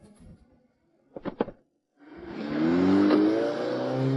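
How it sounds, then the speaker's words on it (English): A car pulls away after a door is shut, its engine rising to a steady, fairly loud drone that holds to the end, preceded by a few brief thuds. "he opened the car door and drove away"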